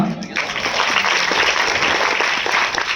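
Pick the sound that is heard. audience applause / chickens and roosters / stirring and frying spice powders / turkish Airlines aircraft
audience applause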